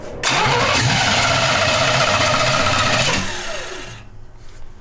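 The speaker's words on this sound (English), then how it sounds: "just pump it a bunch of times and then like just let it start and see if it wants to try to idle" A 1971 Jaguar fitted with a small-block Chevy V8 cranks and catches, roaring loudly and steadily for a few seconds before the revs sag and it stumbles toward a rough idle.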